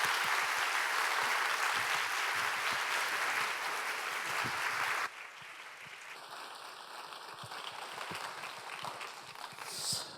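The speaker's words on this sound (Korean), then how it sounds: "우리 큰 박수로 맞이하겠습니다" A church youth congregation applauds loudly and steadily for about five seconds to welcome a guest pastor, then the clapping drops off abruptly, leaving quieter room noise and a few scattered claps.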